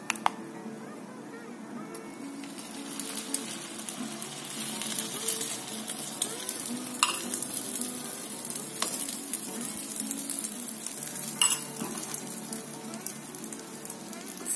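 Beaten egg mixed with tomato, chilli and methi microgreens sizzles and fries as an omelette in a lightly oiled pan, giving a steady close crackle with occasional scrapes and no talk.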